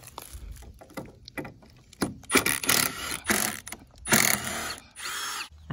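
Rusted, stripped screws are backed out of plywood walls on a mobile chicken coop, with a power driver whirring in repeated short bursts, separated by clicks and handling knocks, close and fairly loud.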